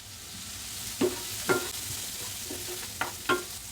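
Onions, salt and chili flakes sautéing in a pan for cheesy pasta, a soft continuous sizzle broken by a few sharp spatula scrapes and knocks against the pan.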